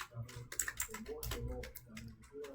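Close, quick typing on a computer keyboard at a terminal, with irregular clusters of light key clicks under a soft voice talking.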